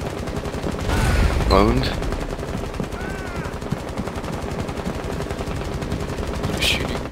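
Sustained rapid gunfire in Rainbow Six Siege, dense and continuous bursts over the whole stretch, with a brief spoken word among the shots.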